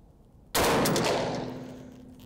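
A rifle loaded from a modified Magpul magazine fires one loud, sudden shot over a chronograph, and the blast rings out and fades slowly.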